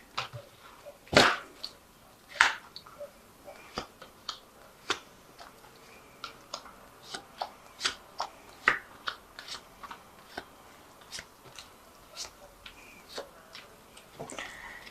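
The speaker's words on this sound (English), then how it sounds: "So this is the Vikings Tarot. So I'll just draw some cards from it." Vikings Tarot cards being drawn and shuffled, a series of soft separate card flicks and taps spaced about a second apart, faint and close with no talking.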